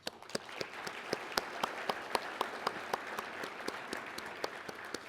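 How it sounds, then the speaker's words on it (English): An energy conference audience applauds a sponsor, a steady round of clapping throughout, with individual sharp claps standing out crisply near the microphone over the massed crowd. "I'd like to give a big round of applause to PETRONAS Canada for, again, sponsoring this"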